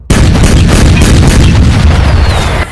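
A cannon booms into one loud, heavy blast. The deep rumble rolls on and decays slowly for a couple of seconds.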